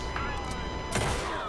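Gunfire in Red Dead Redemption 2 Online during a bar fight, heard as a few sharp shots over a steady background din, one louder burst near the end, with a player talking over it.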